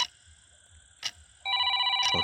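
Telephone ringing as a sound effect in a Hindi horror story, a buzzing ring tone with a brief click, then a louder, steady electronic ring tone takes over, nearby and clear, with no speech.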